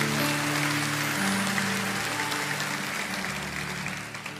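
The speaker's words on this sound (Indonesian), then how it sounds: "Kasih tepuk tangan." A congregation at a church service claps under a sustained musical drone with a steady hum, a continuous wash of applause that tapers slightly toward the end.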